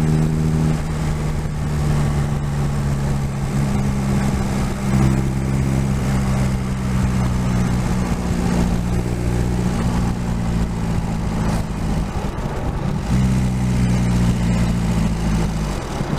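A Reliant 750 trike's engine runs in a steady, loud drone while being ridden, holding a constant low hum throughout with slight shifts in pitch and no talking.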